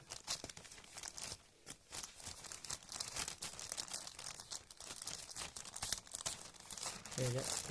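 Constant crinkling and tearing of a thin plastic mailer bag being opened, close up and busy throughout, with no clear speech over it.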